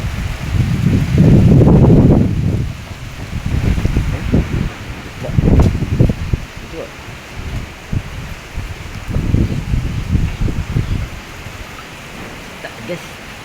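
Strong typhoon winds from Typhoon Tino in Bicol rush through leaves in loud, surging gusts, with rustling swelling and fading and a voice speaking briefly in between.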